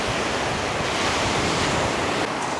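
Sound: sea waves on the shore at night

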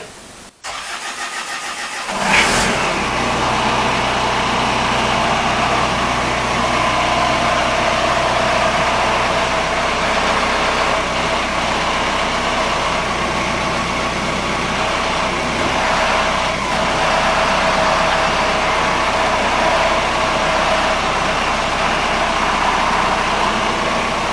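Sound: skid steer diesel engine starting after bleeding

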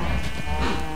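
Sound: sheep bleating, from a video game

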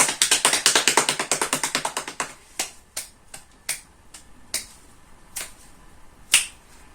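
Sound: children imitating rain with finger snapping and patting

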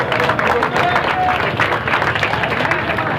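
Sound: applause at football tournament prize ceremony

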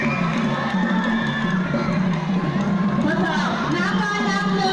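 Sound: crowd cheering at a futsal final

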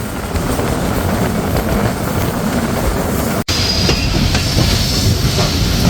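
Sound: Barendra Express intercity train running into Natore

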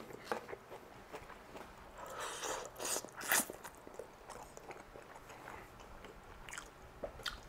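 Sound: chewing rice noodle rolls with greens

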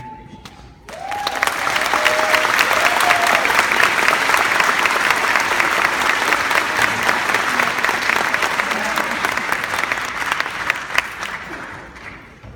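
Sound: audience applause for commencement speaker

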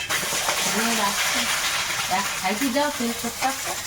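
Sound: native chicken eggs cracked into hot oil in a wok

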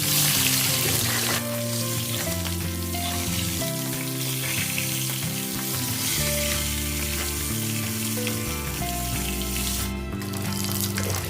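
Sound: frying mackerel in a pan

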